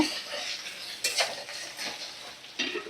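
Ginger garlic paste sizzles in a kadai as it is stirred, with scraping strokes and metallic clinks of the utensil repeating close up and with no voices.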